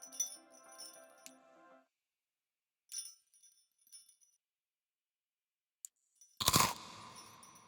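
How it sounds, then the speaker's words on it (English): Crunchy bites while eating: a few short, close crisp crunches and clinks separated by quiet gaps, ending in one louder, sharper crunch. "Third time's a charm for getting a good crunch sound"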